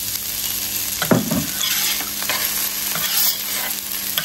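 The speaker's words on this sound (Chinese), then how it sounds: "铁板加油，把包菜炒一下，葱蒜干辣椒爆香" Cabbage sizzles as it is stir-fried in oil on a hot iron griddle with scallion, garlic and dried chili, a steady close frying hiss broken by a few scraping stirs near the start.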